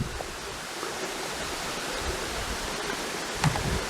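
A small creek in a park flows with a steady, broadband rushing babble, continuous and fairly close, with no voices over it.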